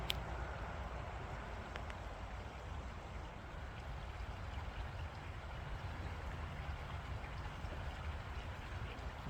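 Steady, soft rush of flowing water in a sculpture park, continuous and fairly distant, with no voices over it.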